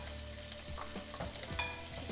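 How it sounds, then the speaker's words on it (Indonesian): Shallots and lemongrass sauté in hot oil in a pan, a steady sizzle running throughout with repeated scraping stirs of a utensil, close and fairly quiet, no voices. "masukkan bawangnya sama serainya. Ini daun singkongnya udah aku tiriskan ya."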